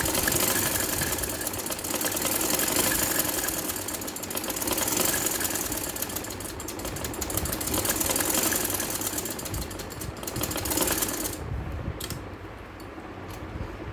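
A sewing machine stitches lace onto the hem of a kameez, a continuous rattling mechanical whir with fluctuating speed that stops near the end, leaving quieter handling noise.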